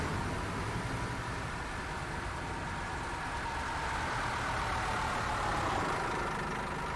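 A loud, steady bus engine drone in a driving video game runs without a break, a deep rumbling hum that swells slightly toward the end, with no talking.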